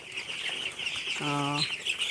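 Eleven-day-old broiler chicks on a farm: a steady high peeping hum with one short, clear, tonal call rising out of it near the middle, fairly faint overall.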